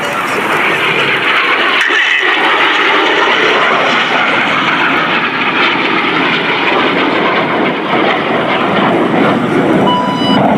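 RAF Red Arrows jets fly display manoeuvres at the New York International Air Show, a loud, continuous roaring jet engine noise that holds steady and close throughout.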